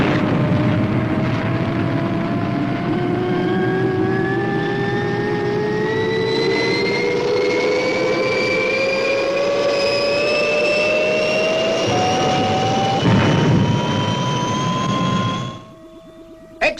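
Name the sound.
Fireball XL5 spaceship liftoff, rocket engine roar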